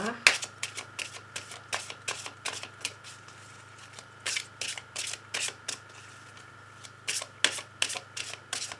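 Oracle cards being shuffled for a card reading, a run of crisp papery riffles and flicks arriving in uneven bursts, close and moderately quiet over a faint steady hum.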